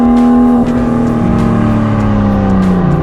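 Dinan-tuned BMW M2 S2 engine roars loud and close, its pitch dropping then holding a strong, steady growl with a harsh, raspy exhaust edge.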